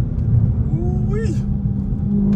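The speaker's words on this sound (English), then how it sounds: "you can hear a slight whine" Dodge Charger Daytona 392 V8 engine running close and steady with a deep low rumble and a slight rising whine over it, under a voice that talks and exclaims.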